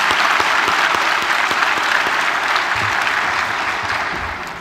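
An audience at a medical conference session on breast cancer and breast tumors breaks into sustained, dense applause that holds steady before slowly tapering off.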